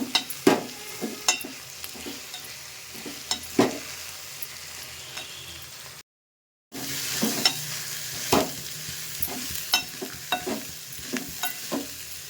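Sprouted beans being stirred in a hot pan, with repeated close scraping strokes over a steady sizzle and a brief silent gap partway through.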